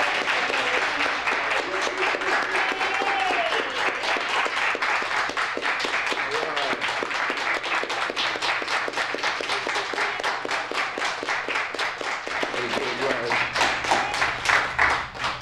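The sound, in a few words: audience applause at poetry reading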